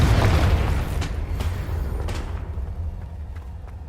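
A Confringo explosion spell cast in Hogwarts Legacy, a deep booming blast that rumbles and fades, followed by a few sharper crackling impacts.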